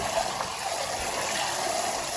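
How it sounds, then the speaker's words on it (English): Kitchen tap water runs steadily through food being rinsed, a continuous close splashing stream with no talk over it. "So we just keep letting the water run through"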